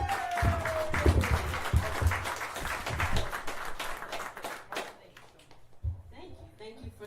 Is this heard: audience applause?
yes